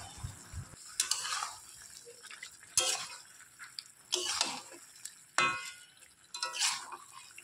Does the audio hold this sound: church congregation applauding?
no